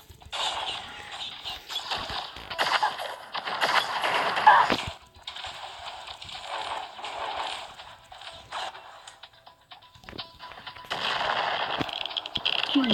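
Bursts of video-game gunfire from a poorly performing weapon, a string of rapid sharp reports and crackling impacts that rise and fall across the stretch with short quieter gaps between volleys.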